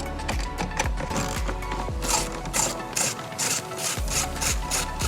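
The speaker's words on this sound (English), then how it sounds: "There is a 10 mil bolt right here that you need to remove." Ratchet wrench backing out a 10 mm bolt on a Tesla Model 3/Y front end, a fast continuous rasping click repeated in strokes, close and loud.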